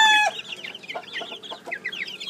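A rooster gives a brief crowing tail, then a run of short, choppy clucks and bird chatter, close and fairly loud, with no one talking.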